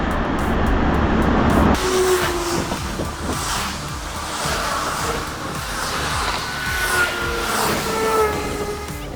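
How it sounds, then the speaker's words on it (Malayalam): A city bus in Japan pulls up to a stop, heard as a steady low engine rumble and road noise that swells as it approaches, with a brief hiss near the start. "ബസ് അങ്ങനെ വരുന്നുണ്ട്"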